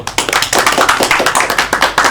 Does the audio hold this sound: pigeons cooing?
no